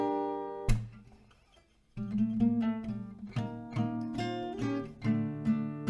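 Acoustic guitar plays a chord-based chorus melody from a song: a single struck chord rings out and fades, then after a short gap rhythmic strummed chords continue steadily, close and clear with no voices.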